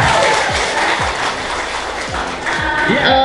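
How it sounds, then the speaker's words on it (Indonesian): A seminar audience on a university campus bursts into loud, close applause mixed with cheering and shouted voices, the clapping dense and energetic throughout. "tepuk tangan yang luar biasa"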